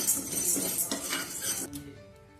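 Sago pearls dry-roasting in a pan while a spoon stirs and scrapes them, a dense rattling, clinking metal-on-pan sound, close and steady before easing off near the end.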